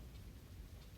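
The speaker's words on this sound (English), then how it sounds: "Can y'all hear the rain?" Rain falling outside, heard faintly through an open door as a steady, soft, diffuse hiss with no distinct drops and no voices.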